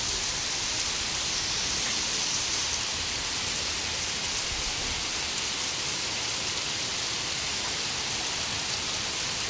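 Rain falling steadily, a dense, even hiss of drops on surfaces that stays constant throughout with no voices.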